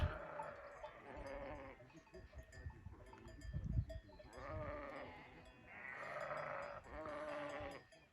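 Sheep and goats bleat repeatedly on a windy mountainside in the Nurhak range as a flock heads to a salt lick, several wavering calls overlapping at middling distance, with faint bell clinks and gusty rumble between them.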